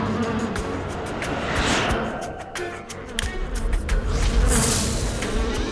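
Cartoon bees buzzing around a queen bee, a steady insect drone that swells and fades over a busy soundtrack with occasional louder surges.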